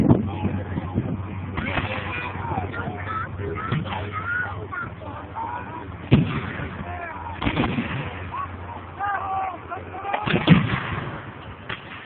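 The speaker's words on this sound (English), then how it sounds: "The artillery at the time, handies, which are light field guns, were firing" Light field guns firing at a re-enactment of the Battle of Stoney Creek, a few heavy booms spread through the clip among crowd voices, a steady low drone and scattered bangs of musket fire.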